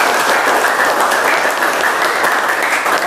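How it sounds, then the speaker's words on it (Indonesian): Students in a classroom applaud together, steady dense clapping held at full volume throughout, close and with no voices over it. "Kita tepuk tangan yang paling meriah untuk pertemuan kita hari ini."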